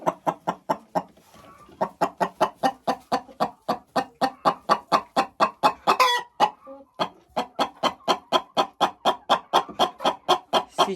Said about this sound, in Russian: Эта курица любит вот так сидеть в этом гнезде и нестись.